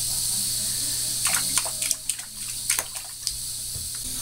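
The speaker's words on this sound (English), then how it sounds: "Make his hand splash again." A baby splashes bathwater with his hand, a few soft irregular slaps over steady running water, close by.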